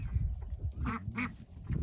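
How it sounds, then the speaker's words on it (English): A duck on an off-grid homestead gives a few nasal quacks near the middle, close and fairly quiet over soft outdoor background noise. "Look at my Leggy duck."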